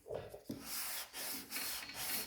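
Steady hand rubbing of a sanding block across the body of a 1963 Cadillac Coupe DeVille, close and fairly quiet, in long broad strokes broken by short pauses with no talking.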